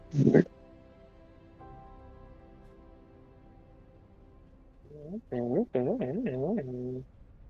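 A house cat lets out a short, sharp cry, then after a quiet pause gives a run of several drawn-out, wavering meows close to the microphone.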